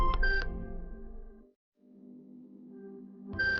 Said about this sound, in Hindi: तभी शशिकांत के मोबाइल पर मैसेज आया।